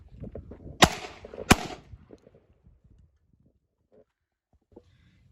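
A Beretta 1301 semi-automatic shotgun fires two loud, close blasts less than a second apart, followed by faint handling clicks and near silence.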